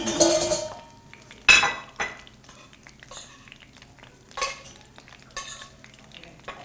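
Egg rolls sizzle softly in a frying pan while utensils scrape and clink against it in scattered bursts, with no talking.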